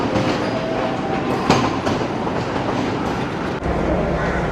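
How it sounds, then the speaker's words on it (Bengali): A train rolls into Colombo Fort railway station, Sri Lanka, arriving at platform 4: a continuous dense rumble with wheel clatter and occasional sharp clanks, heard from close by with no speech. "ঢুকে গেছে আমাদের ট্রেন কলম্বো ফোর্ট রেলওয়ে স্টেশনে।"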